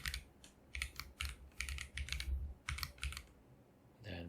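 Typing on a computer keyboard during a spreadsheet workshop, quick clusters of light clicking keystrokes in irregular bursts with short pauses, fairly close and alone.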